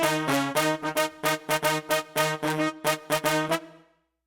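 Stacked synth brass doubled an octave lower plays a rhythmic chord pattern of short punchy stabs and held notes, bright and full, ending in a short decaying tail; no voices.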